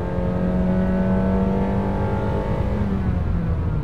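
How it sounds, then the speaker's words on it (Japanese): The engine of a new Honda Freed with a CVT runs at full throttle, accelerating toward 100 km/h, a loud, steady droning hum with a rising tone, heard from inside the cabin without talk. "全開になるとエンジンの音当然大きく入ってきますけれども"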